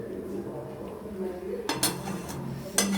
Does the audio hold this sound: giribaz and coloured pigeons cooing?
no